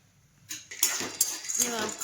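Peanuts roasting in plenty of hot oil in a pan for Solapuri peanut chutney, with scattered clinks and scraping of a utensil against the pan and a soft sizzle building over two seconds, close by.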